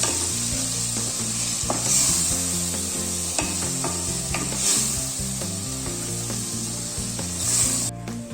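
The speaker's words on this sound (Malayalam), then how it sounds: "നന്നായിട്ട് മിക്സ് ചെയ്യാം." Raw mango pickle with chili powder being stirred in a pan, a steady scraping and mixing texture with soft sizzle-like noise running continuously throughout, no voices.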